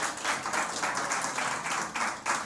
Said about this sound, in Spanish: Un aplauso también para toda la gente que se bautizó la semana pasada.